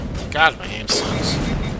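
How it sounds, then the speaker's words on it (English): Sniper rifle fire in the Mass Effect video game, a couple of sharp booming shots with a ringing tail, close and loud over a steady background hum. "This thing has a short range for a sniper rifle."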